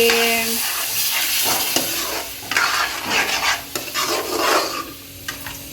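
Ground coconut paste hits a hot pan and is stirred, giving a continuous sizzle with bursts of louder frying and scraping strokes of the spoon, close by and without speech.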